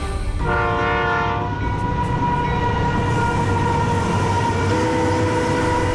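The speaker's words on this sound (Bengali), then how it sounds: "আরে তোর ট্রেন এসেছে, মাত্র 2 মিনিট দাঁড়াবে এখানে" A train horn blares loudly with layered tones, then a long sustained horn over the rumble and clatter of a train pulling into a railway station close by.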